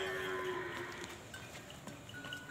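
A buffalo at a livestock sale gives a single drawn-out, low moo, fairly faint and heard alone.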